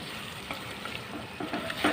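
Prawn and raw mango curry sizzles softly in a pan as it is stirred, a brief close-up of frying and scraping with no talking.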